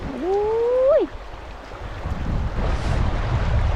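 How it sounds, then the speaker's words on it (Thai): A cold mountain stream in Kamikochi, Japan, rushes steadily in autumn. A brief rising tone opens, then a broad, continuous wash of flowing water carries on with no voices. "น้ำที่ไหลมาจากภูเขานะคะ มันก็จะเย็นประมาณนี้แหละ"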